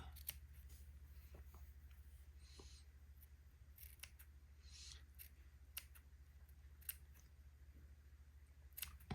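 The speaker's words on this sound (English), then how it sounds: "I'm going to cut a little notch in the batiste of the entretot." Scissors snip notches into batiste fabric for a Christmas dress, giving a series of small, crisp, faint clicks at uneven intervals over a low steady hum, with no speech.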